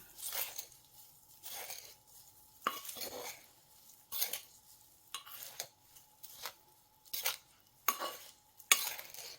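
Chili paste for Thai nam prik kha with mackerel being stirred in a pan, a spoon scraping and squishing through the thick mixture in repeated close strokes with faint sizzling between them, no voices.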